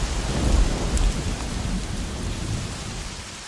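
Heavy rain pours steadily as a dense hiss, heard from shelter under a rock outdoors at night, with low rumbles of thunder rolling underneath, strongest early on and easing slightly toward the end.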